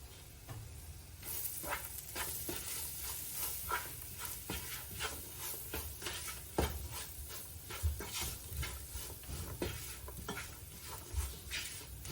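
Garam masala and meat masala get stirred in a pan for a pork roast, a soft continuous sizzle beneath a constant patter of spoon scrapes and light taps against the metal.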